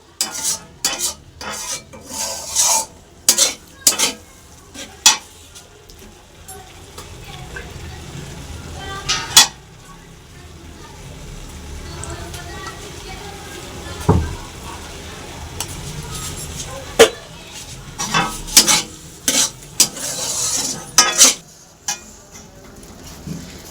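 Ghee added to a pan of matar keema, with soft continuous sizzling under repeated sharp clicks and scrapes of a spoon stirring against the pan, close and moderately quiet.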